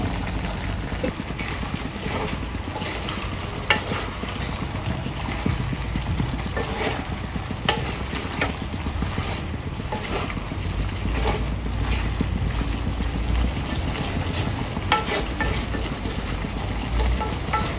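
Chicken curry sizzling steadily in a pan with water added as it cooks, a dense continuous hiss and crackle with occasional stirring scrapes, close and loud throughout with no talk.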